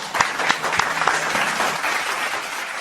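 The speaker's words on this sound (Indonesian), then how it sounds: "Langsung saja kita berikan tepuk tangan kepada Bang Rudi Tarigan." Audience applause greets a guest on an Indonesian talk show, a dense burst of many clapping hands, strongest at the start and holding steady before thinning out.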